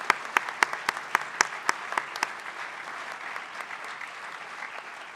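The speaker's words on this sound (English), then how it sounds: "let's pause and clap for all of these folks" An audience applauds a high-school sports team, opening with a string of sharp, separate claps close by. These run together into steady, even clapping from a crowd that holds at a moderate level.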